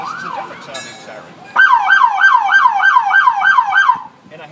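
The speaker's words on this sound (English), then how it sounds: "This is a different sounding siren." After a brief faint wail, a loud siren bursts into a rapid repeating yelp, about ten quick whoops, then cuts off.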